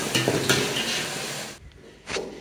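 Metal pots and pans clatter and scrape in a village kitchen, a few sharp knocks over a sizzling, stirring background, fairly close and moderately loud.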